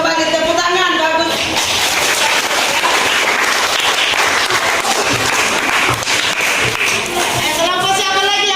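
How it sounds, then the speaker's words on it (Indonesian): A classroom group claps for a presentation by group 7, a dense burst of applause that swells and holds for several seconds, with voices heard briefly at the start and end. "Silakan kembali tepuk tangan, bagus."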